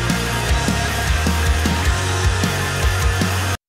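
A finished band mix recorded in DC plays back, a full, dense song with a steady, punchy drum beat hitting roughly twice per second under sustained instruments, loud and continuous until it cuts off abruptly.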